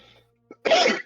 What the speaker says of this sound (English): Okay, so that was a sneeze.